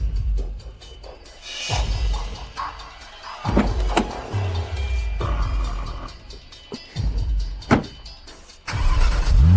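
A car on the way into town, its engine rumbling with uneven surges and thumps, close and fairly loud, with no voices over it.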